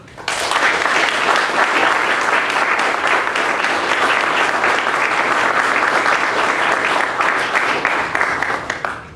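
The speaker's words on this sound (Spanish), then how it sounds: "para los cuales pido un fuerte aplauso" Sustained, loud applause from a conference audience honoring two distinguished lecturers at a military history event in Peru, dense clapping holding steady for about nine seconds before tapering slightly at the end.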